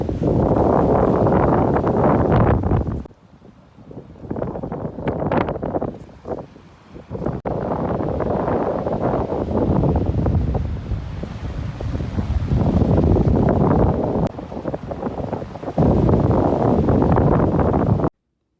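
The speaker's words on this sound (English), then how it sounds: "It is very, very, very windy outside today." Strong wind blasts an outdoor microphone in Toronto, roaring in heavy, buffeting gusts that ease into a brief, quieter lull before surging back loud and continuous.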